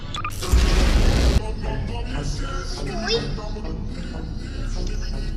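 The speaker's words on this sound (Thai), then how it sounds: "โอ้โหระเบิดมันเยอะขึ้นกว่าปกติตั้งเยอะ" A loud, sharp explosive burst at the start, followed by rumbling game effects and layered sounds, with a voice talking over them.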